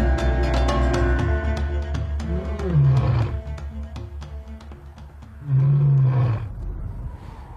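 Two deep, drawn-out lion roars with low grunting between them, resonant and fairly near, over a steady background rumble.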